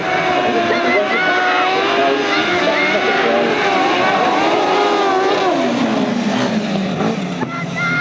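Racing engines of right-hand sidecar outfits at a 1995 grasstrack championship meeting roar loudly and continuously, pitch rising and falling as the machines circle close by, with a commentator's voice underneath.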